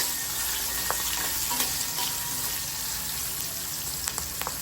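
Green chilies sizzling in hot oil in a pan for a mixed vegetable dish, with a steady close frying hiss and scattered small pops and crackles throughout, no voices.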